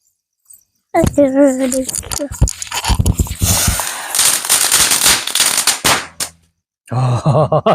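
Rapid bursts of Diwali firecrackers popping and crackling close by, dense sharp bangs in a flurry, with a voice talking before and after.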